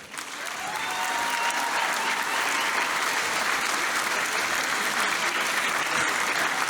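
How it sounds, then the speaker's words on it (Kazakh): Sustained audience applause fills a hall at a film premiere, a dense, steady wash of many hands clapping that swells in the first second and holds evenly throughout. "сіздердің қошамет һәм қол шапатлауларыңыз"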